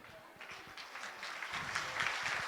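Audience applause for a children's classical dance troupe at a temple Natiyanjali festival in Tirupur, a soft, steady patter of many hands building slightly over a couple of seconds, heard from a distance with light crowd murmur.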